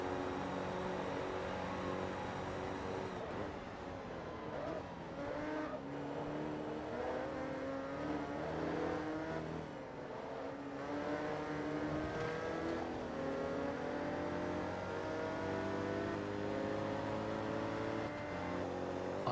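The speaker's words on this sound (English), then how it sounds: "it sounds like an English V8" A race car engine revs hard above its redline in Forza Motorsport 2, resembling an English V8, with a continuous loud, rising and falling engine roar through repeated gear changes and no talking.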